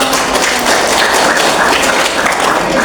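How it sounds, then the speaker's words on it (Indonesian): A classroom of eighth-grade students claps steadily, dense overlapping applause lasting a few seconds at a loud, even level. "Tepuk tangan dulu dong."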